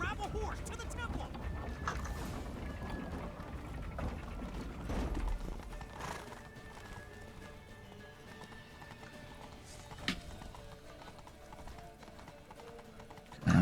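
A horse gallops in The Witcher 3 Wild Hunt, its hoofbeats a continuous clattering mixed with game ambience and a voice, with a louder thump near the end.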